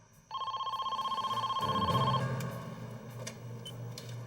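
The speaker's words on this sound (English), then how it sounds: "Later that night, the phone rang." An old-style telephone bell rings with a rapid metallic trill in one continuous burst, fairly close and clear, then fades into a low hum with faint background noise.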